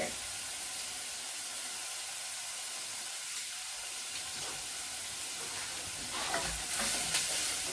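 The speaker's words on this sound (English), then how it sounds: "You just want to cook your onions until they start to become transparent" Onions cooking in a pan sizzle with a continuous soft frying hiss, steady and moderately close, swelling slightly louder near the end with faint stirring.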